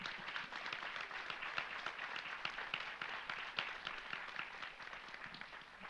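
An audience at a higher-education heads' conclave valedictory session claps for the rapporteur team, a steady sparse patter of hands held at a fairly low, distant level for the whole stretch.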